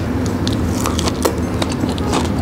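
Crisp, crackly crunching from biting into crispy fried chicken bits, several sharp crunches close to the microphone over a steady background hum.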